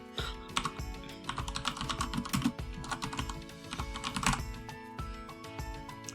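Close, light typing on a computer keyboard, a run of quick irregular key clicks with short pauses, heard alone with no talking.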